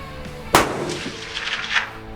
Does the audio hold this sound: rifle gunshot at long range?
yes